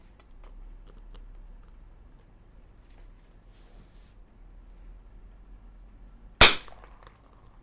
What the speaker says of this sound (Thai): เดี๋ยวผมยิง วัดความเร็วให้ดูนะฮะ